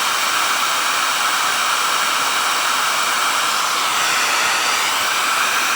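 An electric heater fan runs on a LIPOWER Mars-1000 Pro portable solar power station, giving a loud, steady close-up rush of blowing air with no pauses or voices.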